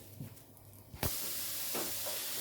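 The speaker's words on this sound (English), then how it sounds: "I have added the minced lamb, and we are just frying that on sort of a low to a medium heat" Minced lamb frying in a pan over low to medium heat, a steady broadband hiss that jumps in abruptly and holds loud and close, with a faint scrape or clatter partway through.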